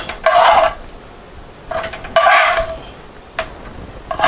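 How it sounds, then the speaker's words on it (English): Hamburger meat pushed around a frying pan while cooking chili with beef and beans, three loud scraping, sizzling bursts of spatula against metal separated by quieter gaps of faint background hiss. "So you see how I'm pushing the hamburger up to the top of the frying pan"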